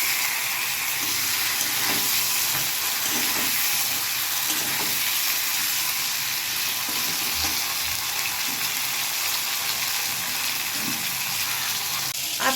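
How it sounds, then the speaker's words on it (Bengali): Cut beans fry in an old iron wok with a steady, close, crackling sizzle and occasional soft stirring clinks. The sound is continuous and even throughout, with no voices. "ও শিমগুলো একটু ভাজা ভাজা হয়।"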